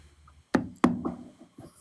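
Knocking on an apartment door: two sharp, close raps followed by a few softer trailing knocks, loud against a quiet background.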